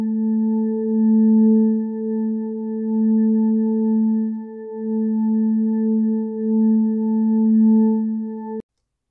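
Rain-on-umbrella sample EQ-filtered into a glassy harmonic tone, a steady sustained note with stacked octave partials and gentle swelling, alone and clean until it cuts off abruptly near the end.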